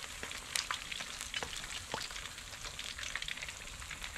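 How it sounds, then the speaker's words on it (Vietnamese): Fish in batter frying in hot oil at a restaurant, a steady crackling sizzle with scattered sharper pops, moderately quiet and uninterrupted by talk. "cá này mình chiên rất là ngon"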